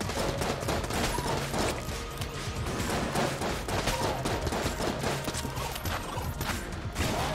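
Constant gunfire rattles through a dungeon level of Enter the Gungeon, a dense, unbroken barrage of rapid shots and mechanical clatter.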